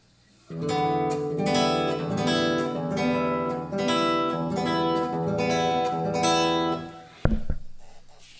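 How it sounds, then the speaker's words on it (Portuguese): Acoustic guitar strummed in a steady rhythm for several bars, sounding distant and roomy with a noticeable echo, ending with a sharp knock. "Se colocar muito longe, pega bastante eco"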